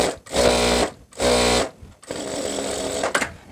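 A sewing machine stitches the hip joint of a skirt palazzo in two loud, steady bursts, then runs in a longer continuous stretch, close by and alone.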